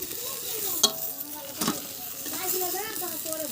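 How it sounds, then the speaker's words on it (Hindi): Jackfruit pieces frying in a little oil in a wok on a village stove, a steady close sizzle with stirring scrapes and a couple of sharp clinks as the wok is tilted, with faint voices behind. "कढ़ाई को हम इधर उधर टेढ़े वेढ़े करके दोस्तों सेकते हैं, ताकि अच्छे से सिक जाते हैं कम तेलों में"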